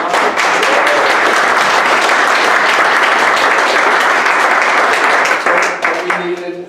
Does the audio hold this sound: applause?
yes